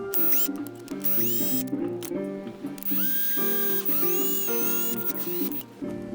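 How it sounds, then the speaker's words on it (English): An electric drill whines in repeated bursts, its pitch rising and falling as it bites into a car's engine bay wall to pass a wire through, close and loud. "drill a hole right there that will allow the wire to slip through into the engine bay"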